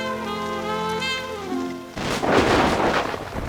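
Heavy rain and a thunder crash on a cold December night: after a sustained tonal tone, a loud broadband rumble and downpour roar burst in and continue steadily.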